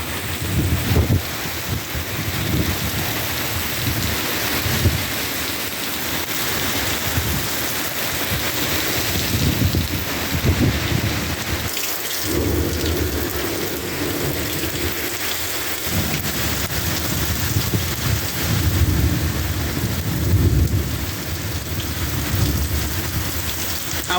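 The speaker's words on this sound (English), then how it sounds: "I wasn't expecting for this storm to be like this" A sudden severe thunderstorm pours heavy rain onto surfaces while thunder rumbles, a loud continuous downpour with deep booming rolls rising and fading, close and dense for the whole stretch.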